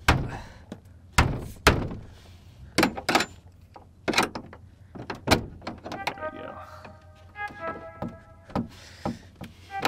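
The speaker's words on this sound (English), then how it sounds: "when I close this door, this part right here slams" A car door is slammed shut repeatedly, giving a series of sharp, loud thunks spaced irregularly at close range, with a faint electronic chime in the background and no clear talk.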